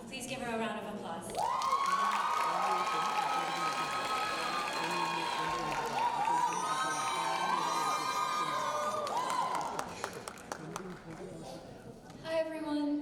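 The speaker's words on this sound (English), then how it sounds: "Please give her a round of applause." An audience claps, cheers and whoops at a Bharatanatyam arangetram dance recital, a dense sustained wave of applause with excited voices rising over it before thinning out near the end.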